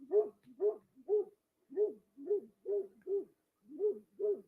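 Dogs bark outdoors at coyotes: about nine evenly spaced, throaty barks in steady rhythm over a few seconds, moderately loud and somewhat distant, with no talking.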